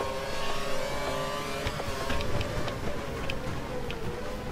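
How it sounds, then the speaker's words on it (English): Several race car engines in a PC racing game at the Hungary circuit drone and whine together in a steady, dense roar, with faint ticking clicks scattered over the top. "looks like an angry swarm of cars behind me"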